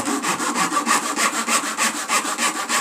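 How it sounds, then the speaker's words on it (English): An old rubber tyre being grated by hand in a garage, with steady rhythmic rasping strokes, about two per second, close and loud with no talking. "all we need to do really is just grate up the old tyre"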